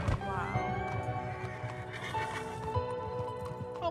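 A horse neighs in a loud, wavering whinny near at hand, with hoof clip-clops and people speaking mixed in.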